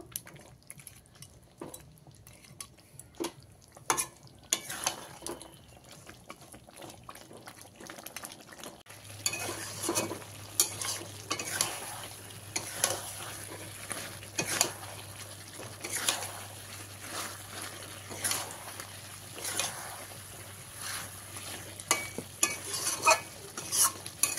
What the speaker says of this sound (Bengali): এবার এটা ভালো করে আমি কষিয়ে নেব।